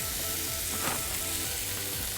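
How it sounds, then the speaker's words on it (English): Venison steaks sizzle steadily in a hot pan, a continuous close frying hiss with a brief louder crackle partway through. "you can hear that sizzle as they go straight in"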